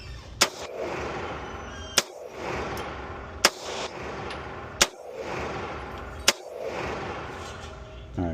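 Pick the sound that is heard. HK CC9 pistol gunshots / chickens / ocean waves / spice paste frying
HK CC9 pistol gunshots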